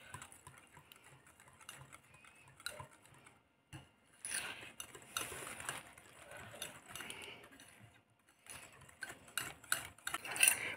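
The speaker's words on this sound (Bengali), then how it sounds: "একটা হ্যান্ড উইক্স দিয়ে এটাকে বিট করে নিচ্ছি।" Hand whisk beating sour yogurt with sugar in a bowl, quick irregular metallic clicks and scrapes in short bursts with brief pauses, close and fairly faint.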